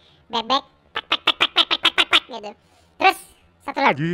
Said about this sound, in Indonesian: Nah ini suara gue jadi suara bebek